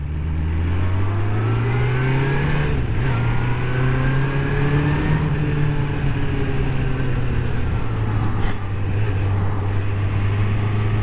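Kawasaki GPZ600R motorcycle engine after a rebuild, on a test ride: a steady, loud drone that rises and falls with throttle, with sustained revving and no talk over it.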